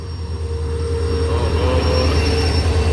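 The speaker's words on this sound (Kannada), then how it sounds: "ಅದ ಟ್ರೈನ್ ಬಂದ ಬಿಟ್ಟೈತ್ರಿ" A train arriving at a station, bound for Badami, rumbles steadily nearby, a continuous low roar with a faint high whine on top, no voices.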